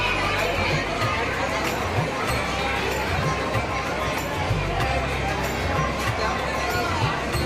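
A dense crowd of devotees packs the Renuka Devi temple at Mahur, a continuous hubbub of overlapping voices and chatter that stays loud and even throughout.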